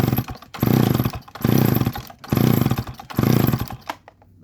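McCulloch Pro Mac 610 chainsaw running up close, engine revved in four loud buzzing surges with short dips between, ending as it drops away, with no talking.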